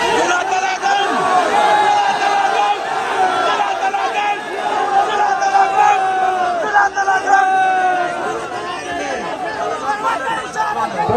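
A large street rally crowd for Pakistan Tehreek-e-Insaf in Lahore chants slogans in unison, a loud sustained roar of many voices rising and falling over about eleven seconds.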